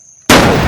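A single loud, close gunshot cracks out abruptly after near silence, its boom lingering and decaying over the remaining half second.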